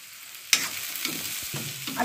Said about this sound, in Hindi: सभी चीज को एक साथ में हमको भूनना है।